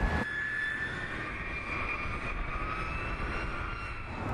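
Military jet airplanes taking off in a minimum interval takeoff at Barksdale, a loud continuous roar of jet engines that holds steady throughout with no talk.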